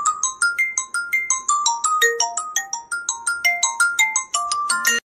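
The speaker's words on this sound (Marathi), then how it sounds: "आता बबनचा फोन आहे आता" A mobile phone ringtone plays a bright, repeating electronic melody of quick beeping notes that loops steadily and fairly loudly, with no voices over it.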